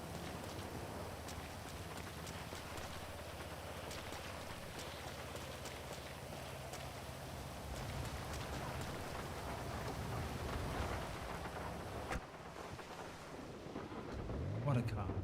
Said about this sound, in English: it's darker, which it should be darker because it's raining